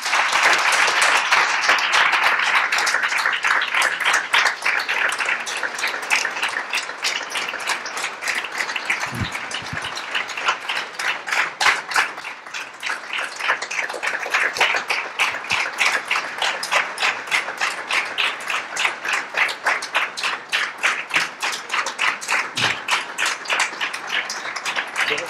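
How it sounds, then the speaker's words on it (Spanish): A large audience applauds continuously for an extended stretch at an award ceremony honouring the person of the year, with dense clapping that stays strong and steady throughout. "¡Un aplauso!"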